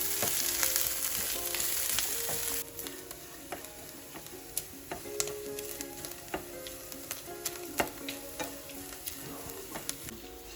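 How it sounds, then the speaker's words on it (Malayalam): Grated coconut fries in a pan for a tempering, giving a quiet, even sizzle close by that is broken by sharp clicks and taps of stirring and no voices. "കുറച്ച് തേങ്ങ നന്നായിട്ട് ചുമക്കുന്ന വരെ വറുത്തെടുക്കണം"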